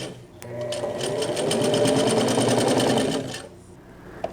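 A sewing machine stitching the side seams of a pair of summer shorts, a rapid, steady whirring run of a few seconds that rises and then slows to a stop, close and alone.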